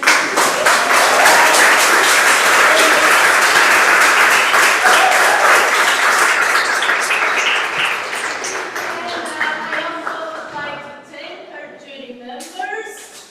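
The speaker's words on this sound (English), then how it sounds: "a big round of applause to all the three speakers of the session" Audience at a thesis presentation session claps for the session's speakers: dense, loud applause that holds steady, then thins out into scattered claps and murmuring voices as it fades.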